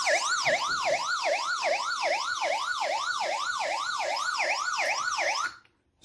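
A hand-crank emergency weather radio sounds its SOS alarm, a loud, rapidly wailing electronic siren cycling up and down steadily for several seconds before it cuts off abruptly.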